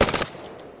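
Prowler gun in Apex Legends fires a fast automatic burst, loud and close, in a rapid rattle lasting about a quarter second, then a short fading tail.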